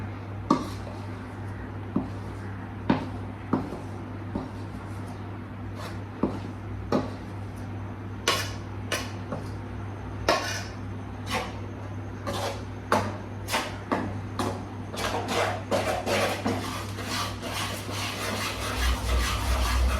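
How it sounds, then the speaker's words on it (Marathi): Besan being gradually stirred into hot ghee for half a kilo of grainy besan ladoo, with a steady series of scraping, rubbing spoon strokes against the pan under a low constant hum. "तर आपण त्याच्यात हळूहळू बेसन घालूया आणि मिक्स करूया."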